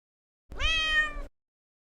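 A single drawn-out cat meow, close and clear, rising then falling in pitch over about a second, with silence before and after.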